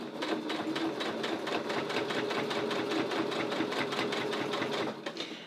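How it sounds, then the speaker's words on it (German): A sewing machine stitches back along a visible zipper seam, its needle hammering in a fast, even rhythm for about five seconds at close range before slowing at the end, with no talk. "Und so nähst du jetzt entsprechend darüber, wendest wieder unter deinem Nähfüßchen dein ganzes Nähgut und nähst diese Strecke entsprechend einmal zurück."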